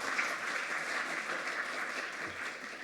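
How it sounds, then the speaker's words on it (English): An audience at a symposium on race, imprisonment and justice gives a round of applause, a steady, even wash of many hands clapping, somewhat distant and moderate in volume, lasting the whole few seconds. "can we get a round of applause for him?"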